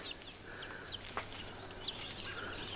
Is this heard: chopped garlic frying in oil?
no